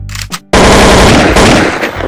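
An AK Kalashnikov rifle fires in Garry's Mod DarkRP, a loud, close, continuous rapid burst of automatic gunfire lasting about a second and a half after a brief quiet pause.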